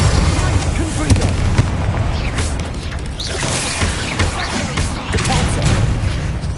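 The Confringo blasting curse in Hogwarts Legacy: loud, dense game explosions and bursting booms layered over continuous battle noise and music, with a voice talking.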